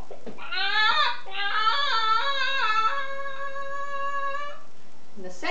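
A human voice imitates a chicken with a string of bright, wavering clucks and squawks that end in a long drawn-out tone, loud and close with no other sound.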